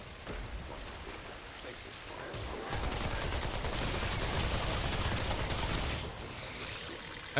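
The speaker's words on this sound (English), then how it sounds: "I can't hear this guy over the sound of my gunshots." Rapid gunfire in the video game Remnant 2, a dense sustained burst of shots that swells loud midway and drops off near the end, with no talk over it.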